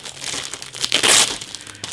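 Plastic bags holding the sprues of an Eduard 1/48 P-51D Mustang model kit crinkle close by, a bright rustling that swells to a brief louder crunch in the middle, with no voices.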